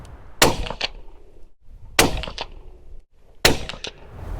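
Three sharp, loud shots from a lightweight 6.25 pound hunting rifle fired at a target, each a sudden crack with a short rumbling tail, spaced about a second and a half apart.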